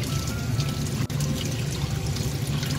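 Cold water pours steadily over cooked noodles in a strainer for rinsing and draining, a continuous close splashing trickle with one brief dip.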